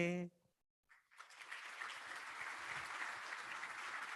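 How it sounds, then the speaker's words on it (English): Audience at a gala dinner applauding after the national anthem; a brief sung note fades to silence, then clapping builds quickly and holds as a steady, moderately quiet wash of many hands. "Ladies and gentlemen, a big round of applause for Pawan"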